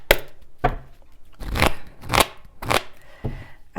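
Tarot cards shuffled by hand in a series of about six crisp riffling bursts, each a short papery rush separated by brief pauses, close to the listener with no talking.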